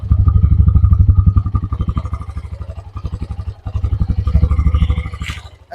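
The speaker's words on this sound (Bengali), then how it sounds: "এটা হচ্ছে নর্মালি গাড়ি যখন দাঁড়িয়ে আছে তখনকার এক্সস্ট সাউন্ড" Standing Hero Xtreme 125R motorcycle with its exhaust idling up close, a loud, steady rapid thumping pulse that dips slightly midway and then picks back up, with no talk over it.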